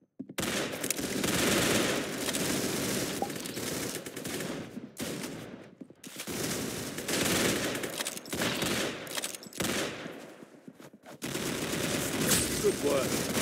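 Video game gunfire in long bursts of rapid shooting, loud and dense, broken by a few short silent gaps between volleys.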